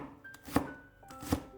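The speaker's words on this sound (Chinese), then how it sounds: "给它切成葱花" A knife chops half a stalk of green onion into small pieces on a board: two sharp, fairly quiet chops spaced under a second apart, with no talk.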